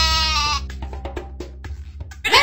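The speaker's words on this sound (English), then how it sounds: "That's right! It's a sheep!" A sheep bleat from the Dora Saves the Farm video game, a loud wavering call at the start, followed by a short stretch of quieter clicks and game sounds.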